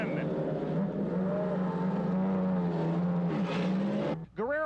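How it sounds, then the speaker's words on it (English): IRL race car engines at the inaugural Las Vegas 500 in 1996 drone in a loud, continuous roar with rising and falling pitch as cars pass, a commentator's voice talking over them. "Team Pennzoil is ready, Roberto Guerrero is ready, the engines are fired up."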